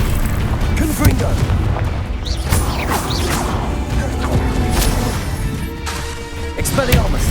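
Confringo fire-blast spells in Hogwarts Legacy burst as several booming explosions, each with a sharp crack and a rumbling tail, spaced a second or so apart amid ongoing combat noise.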